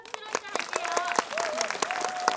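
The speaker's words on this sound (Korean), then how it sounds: "큰 박수로" An audience claps at the opening ceremony of the 9th Busan Women's Human Rights Film Festival, a dense run of sharp, irregular hand claps with a voice speaking over the applause.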